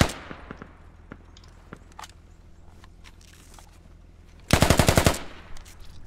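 Gunfire in the Squad military shooter game, first scattered single shots and distant reports, then a loud rapid automatic burst of about ten rounds, followed by a few more isolated shots.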